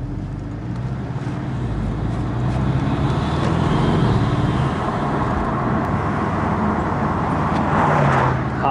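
A Porsche 718 Boxster S engine and exhaust hum from inside the moving car, a steady loud low drone with road and tire noise building slightly as it drives on, no talking.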